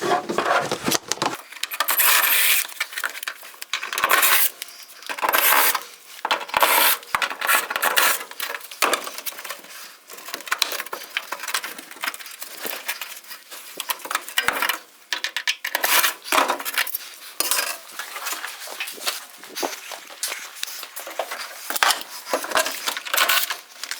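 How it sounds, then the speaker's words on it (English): Cutting out the windshield of a 1974 Dodge Charger, rough scraping and rasping strokes in repeated bursts with short pauses, close and fairly loud, with occasional knocks and no talk. "let's cut this windshield out"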